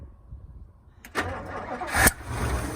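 A 1956 Chrysler New Yorker four-door with a 354 Hemi V8 starts up: after quiet, the starter cranks briefly, then the engine catches with a sharp rise and settles into a rough, rumbling idle, close by.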